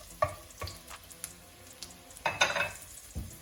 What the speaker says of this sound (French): j'ai chauffé l'huile, je vais positionner des gousses d'ail dedans pour donner du goût